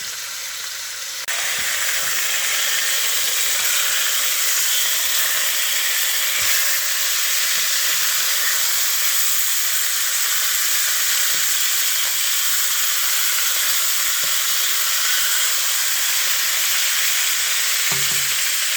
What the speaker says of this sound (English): now we have our ground beef, browned on both sides